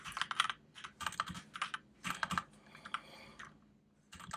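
Close, fast typing on a computer keyboard during coding work comes in bursts of crisp key clicks with brief pauses between them. No voices are heard.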